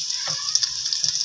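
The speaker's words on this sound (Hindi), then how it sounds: "ऑयल गरम हो गया है, तो अभी इसे हम पकौड़ों को फ्राई करते हैं" Spinach pakoras of gram flour batter fry in hot oil, a steady high hiss with a couple of soft spoon nudges close by.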